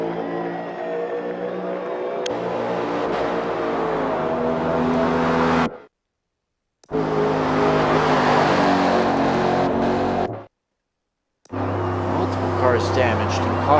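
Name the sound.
race cars on track at Homestead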